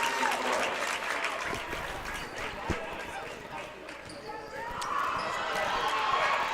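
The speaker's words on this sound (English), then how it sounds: "Crowd doesn't agree with that one." Crowd at a boys high school basketball championship game reacts loudly to a foul call, rising murmur and shouting over echoing gym noise with ball bounces, swelling again toward the end.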